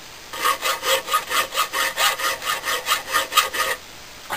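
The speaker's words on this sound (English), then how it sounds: "Whilst it's gluing, I can file the excess off." Steady back-and-forth strokes of a file taking excess glue off a Saxon-style scramasax knife held in a vise, about fourteen even rasping passes, close and loud, with no talking.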